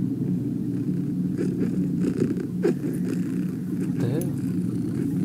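A cat purrs in the horror video game The Baby In Yellow as a steady low rumble running throughout, with a voice talking over it.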